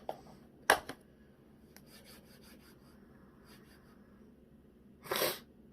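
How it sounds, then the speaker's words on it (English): A single sharp, close sneeze bursts out, with a brief rubbing rasp and small scuffs around it and a longer hissy rustle near the end, in an otherwise quiet room. "I'm gonna sneeze"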